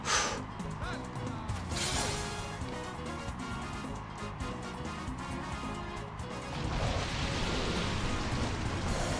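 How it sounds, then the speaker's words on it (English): Rainfall in the Pokemon Colosseum video game, a steady broadband hiss of synthesized rain running throughout, swelling louder near the end and mixed with battle effects and crashes. "Oh no, it's raining."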